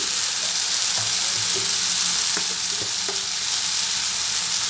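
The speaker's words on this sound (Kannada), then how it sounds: "ಈಗ ಇದನ್ನೆಲ್ಲ ಚೆನ್ನಾಗಿ ಫ್ರೈ ಮಾಡಬೇಕು" Coriander powder, garam masala, turmeric and chilli powder frying in a pan for paneer masala, a steady close sizzle with scattered stirring scrapes and clicks throughout, no voices.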